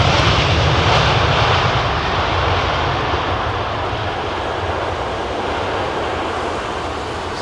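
Boeing 787 Dreamliner jet engines on arrival to runway 27R at London Heathrow, a steady, loud broadband roar holding for the whole stretch and easing slightly toward the end, with no voices.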